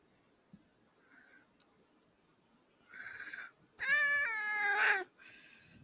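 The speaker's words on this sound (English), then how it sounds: "it sounds like it's a different cat" A cat meows several times, the calls starting short and quiet and growing into a long, loud, drawn-out yowl near the end, heard alone against a faint background.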